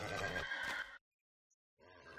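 A horse in a video game whinnies loudly for about a second, then silence, followed by a softer, shorter neigh.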